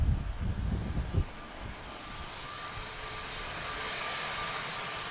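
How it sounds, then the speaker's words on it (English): EasyJet Airbus A320 taking off from Lisbon Airport, a distant steady jet roar that stays level after a brief low rumble at the start, no talk. "It's A320 EasyJet off to Bordeaux."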